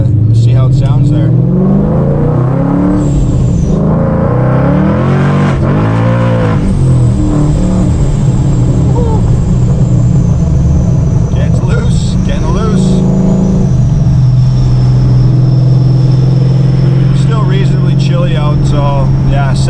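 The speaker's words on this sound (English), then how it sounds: "just pick up some of that exhaust and see how it sounds there" A 2017 Ford Mustang S550 accelerates hard in second gear, with loud exhaust rising and falling in pitch through repeated revs for about twenty seconds, close to the microphone.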